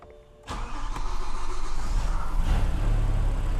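A V10-swapped BMW E92 M3 cranks and catches after a short quiet moment, then settles into a loud, steady, rumbling idle up close, with no talking.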